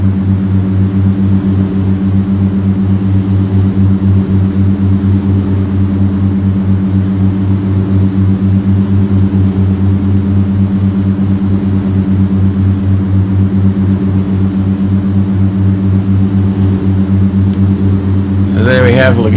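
Propeller aircraft engine in the Aerofly FS2 flight simulator, a loud, steady droning hum with strong layered low tones held throughout as the throttle eases back, ending in a brief burst of higher noise.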